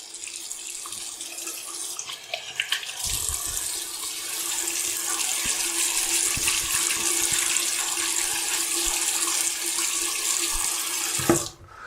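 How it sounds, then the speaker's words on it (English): Warm tap water runs steadily from a bathroom faucet and splashes into cupped hands at a sink, a continuous close rush with no talking, cutting off near the end. "I'm just going to splash that warm water into my hands"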